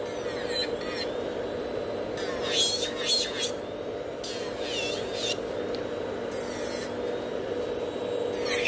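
Steady close scratchy rasping of a file working over gel nails during a fiber gel rebalance on lifting nails in a salon, continuous strokes with occasional brighter sweeps, a quiet voice talking underneath.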